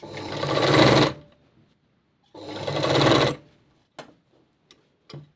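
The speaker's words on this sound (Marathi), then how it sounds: "इथं प्लेट हे करून बरोबर करून शिवून घ्यायचं आहे शिवत असताना व्यवस्थित शिवायचं आहे" A sewing machine stitches pleats along a long sleeve in two loud, steady bursts of about a second each, separated by a pause and followed by a few short clicks as the fabric is adjusted.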